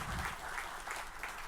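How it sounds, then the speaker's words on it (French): Audience applause at a Malta H Génie school quiz match between Lycée Alexandre Pétion and Lycée Benoit Batraville, a steady wash of clapping from a crowd, fairly faint and continuous throughout. "je vous demande d'applaudir"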